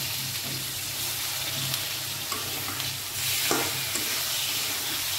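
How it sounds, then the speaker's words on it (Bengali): Singi fish fry in hot oil while being stirred, giving a loud, continuous close-up sizzle and hiss with a few soft scraping knocks. "এখন মাছগুলো ছেড়ে দেব আমি।"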